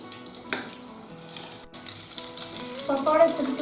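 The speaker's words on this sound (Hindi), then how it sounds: "इसी तरह ही सारे पकौड़े को डाल के सेकना है।" Bathua and potato cutlets sizzle and fry in hot oil in a home kitchen, a steady soft crackle throughout with a brief clink of a utensil near the end.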